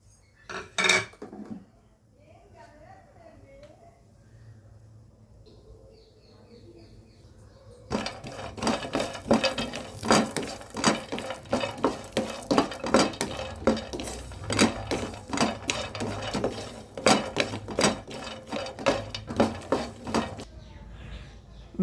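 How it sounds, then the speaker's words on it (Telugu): Nuts and almonds dry-roasting in a pan, a dense run of close rattling clicks and scrapes starting partway through and continuing steadily, after a brief voice and quiet pan sounds at the start. "నట్స్, బాదం పప్పు వేయించుకోండి"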